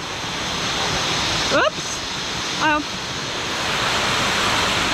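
A waterfall in Koh Samui, Thailand, gives off a loud, steady rushing roar that fills the whole scene, while a person briefly speaks a couple of short words over it.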